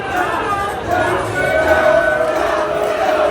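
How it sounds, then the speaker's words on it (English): A wrestling crowd at a live show in a Nashville theater cheers and shouts continuously, a dense roar of many voices that swells slightly partway through. "The crowd still firmly behind Cha-Cha Charlie and definitely not behind Chase Stevens."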